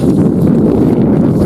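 Strong wind buffets the microphone at a wild river fishing spot on a cold day, a loud, low, continuous rumble with no other sound standing out.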